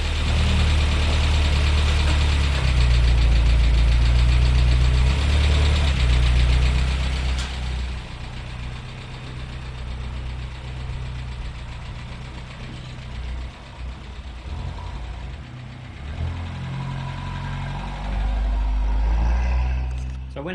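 A Nissan Figaro engine idles after idle and timing adjustments, running with a steady low rumble, close and loud, easing slightly midway before swelling again, with some faint knocking texture.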